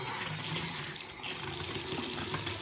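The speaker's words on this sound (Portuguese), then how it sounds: "Vou ligar aqui para descer água quente." Hot water gushes steadily from a bathroom tap in a bathroom torn open to find a leak, a constant close hiss of running water with no pauses or voices.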